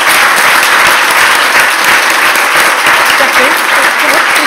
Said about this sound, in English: Another round of applause for Jacqueline,